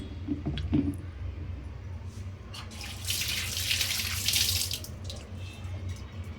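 Water is poured into a pressure cooker holding country chicken: a steady splashing, gurgling pour swells in the middle of the clip and then tapers off, close and fairly loud over a low background hum.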